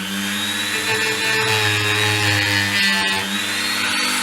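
A Dremel rotary tool on its workstation stand spins as a small sanding wheel, giving a steady high-pitched motor whine with a low hum underneath, loud and close, running continuously with no voices.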